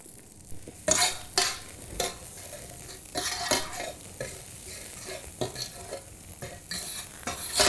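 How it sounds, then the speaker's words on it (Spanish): Garlic sizzles in oil for the sofrito of a Valencian paella. A soft, steady frying hiss sits under sharp scraping strokes as a utensil stirs the pan at irregular intervals. "Un poquito de ajo, un poquito de aceite para que rehogue bien."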